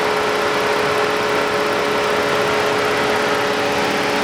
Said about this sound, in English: The fans are blowing, the engine, the air conditioner was going on, so I turned that off. The engine's still running.